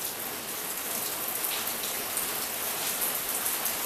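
Steady, dense hiss of rain falling on trees outdoors, continuous and fairly loud with no voices, a constant wash of drops on leaves and surfaces throughout.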